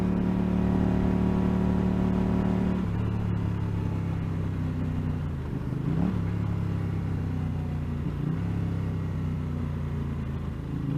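A 1981 Honda GL500 Silverwing Interstate motorcycle engine running, a steady close idle rumble with a slight rise in revs partway through, heard alone.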